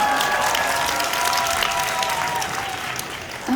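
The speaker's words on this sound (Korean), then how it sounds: "또 박수 한번 부탁드리겠습니다." Audience applause fills the room steadily and loudly for several seconds, a dense wash of many hands clapping at once with faint crowd murmur beneath and no speech over it.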